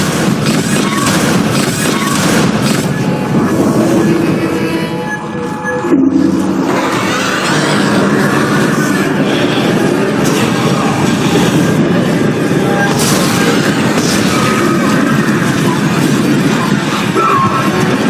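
A tram in the sci-fi horror game Dead Space rolls along its rails with a steady, loud rumble and faint rhythmic clatter, a brief dip midway before the continuous mechanical drone resumes, with no talking.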